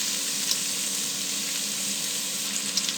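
Bamboo shoots fry in oil in a pan, a steady bright sizzle with a few soft stirring scrapes and clicks, close and continuous, no talking.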